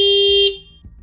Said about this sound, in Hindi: इतनी देर से हॉर्न बजा रही हूँ, सुनाई नहीं देता?